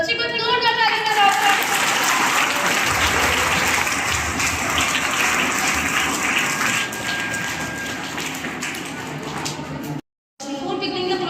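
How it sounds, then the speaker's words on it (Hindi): A school audience at a Veer Bal Divas event applauds loudly, a thick sustained roar of clapping that carries on for several seconds, then cuts out briefly before a short resumption. "बच्चे को जोरदार ताली बजाओ।"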